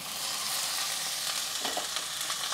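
Washed goat liver sizzles and fries with onions in a hot pan, a steady crackling hiss with a few stirring scrapes, close and fairly quiet.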